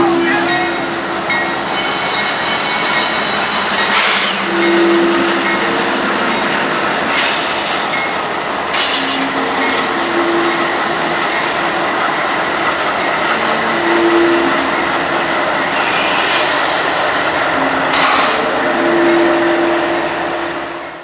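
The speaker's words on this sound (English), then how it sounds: "that intermodal train that we had seen off at the bridge before is now starting to come up" Two freight trains pass each other, one an intermodal train hauled by GE locomotives, giving a loud, continuous rumble with rhythmic clickety-clack of wheels over rail joints, some wheel squeal and a steady tonal hum close by.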